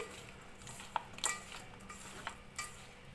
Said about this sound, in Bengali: নুন আর হলুদটা কিন্তু আমি মিশিয়ে নিচ্ছি